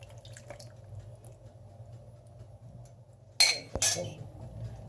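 Tomato paste and pepper paste thinned with water is poured into a cast iron pot for an oven vegetable casserole. After a steady low kitchen hum, a short wet splash with a clink of utensil on metal comes near the end.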